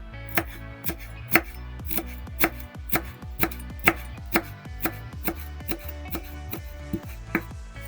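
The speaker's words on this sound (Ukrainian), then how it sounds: "Всі інгредієнти до соусу я порізала" Steady, evenly spaced knife chops on a cutting board, cutting sauce ingredients, about two strokes per second, crisp and close with no talking.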